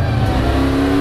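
Race car engine roars hard at the start of a EuroNASCAR race, a loud, dense onboard drone with a steady high whine, unbroken and without voices.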